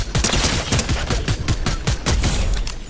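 Gunfire in the video game Fortnite: rapid, dense bursts of loud shots fired in quick succession, heard alone with no talk.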